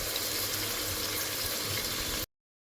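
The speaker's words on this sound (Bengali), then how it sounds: "এর মধ্যে এবার একটু কষিয়ে নেব" Mutton being sautéed with spices in a pan, a continuous dense sizzle heard up close that runs evenly and then cuts off abruptly into silence.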